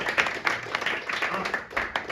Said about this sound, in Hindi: अरे यार जोरदार ताली मारो, जोरदार ताली मारो।